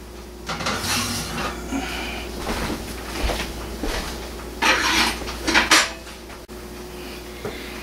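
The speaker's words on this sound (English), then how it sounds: "Pull the grill out." A grill pan being pulled out of an oven gives close metallic scrapes, clanks and rattles in several bursts, including a sharp knock near the end, with no talking.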